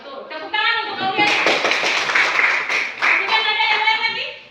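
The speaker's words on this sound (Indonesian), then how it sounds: "Tepuk tangan untuk Aulia." A group of students claps together in a classroom for a classmate, a brief burst of quick hand claps rising and fading, with a teacher's voice speaking over the start and end.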